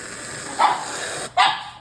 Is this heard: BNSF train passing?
no